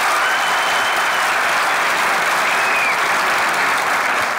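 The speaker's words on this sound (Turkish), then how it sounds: "Duyayım zil diyenlerin alkışını." Studio audience at a comedy show applauding, a dense, loud, continuous roar of clapping that fills the whole stretch without any talk.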